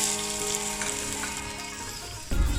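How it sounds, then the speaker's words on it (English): Chopped red onion frying in a pan with fenugreek and cumin seeds for rasam, a steady close sizzle with faint stirring, no talking. "To this, add 1 large chopped red onion."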